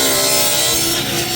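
Power saw cutting wood while cabinet doors are cut out in a workshop, a loud, close, continuous rasping whine with no pause.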